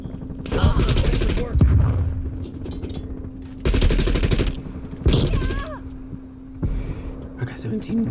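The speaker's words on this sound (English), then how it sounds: "The fuck was shooting?" Machine gun fire in Call of Duty: Cold War on the Nuketown '84 Halloween map during a Hardpoint match, sounding as several loud rapid bursts separated by pauses, with players talking between and over the shots.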